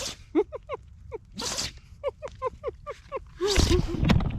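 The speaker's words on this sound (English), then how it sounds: "having a sneezing attack" A dog sneezing repeatedly in a rapid burst of sharp nasal snorts and huffs, close and fairly loud, ending in a wheezy sputter.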